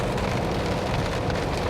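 Heavy rain pours steadily onto a parked Mazda CX-30 in Southern California, a dense, continuous wash of drumming drops on the car's roof and body with no pauses, loud and close throughout.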